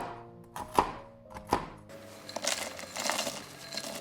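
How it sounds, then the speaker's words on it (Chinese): A knife on a board chopping raw pecans or walnuts into small pieces: two distinct sharp knocks, then a denser run of quicker, softer cuts and crunches, close and fairly quiet. "蛋糕里可以加点生的碧根果或者核桃仁，切成小块"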